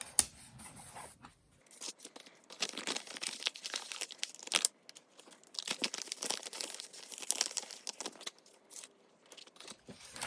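Stickers are peeled from their backing and pressed into a B6 Stalogy bullet journal, heard as close bursts of crinkly, papery peeling and rubbing with short quiet gaps between them.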